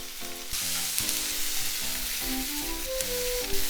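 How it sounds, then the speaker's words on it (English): Kimchi frying in a pan over medium heat with meat and onions, a steady loud sizzle with stirring and utensil clatter throughout, no talking. "I'm gonna put in all the kimchi."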